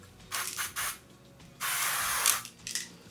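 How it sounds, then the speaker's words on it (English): An aerosol can of SPF 50 face mist with lavender essential oil gives several short hissing sprays followed by one longer burst, close and clear, with faint rattling between them. "It actually sounds like a spray paint can."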